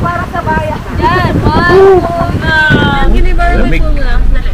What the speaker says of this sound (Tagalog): Sobrang lakas ang hangin dito.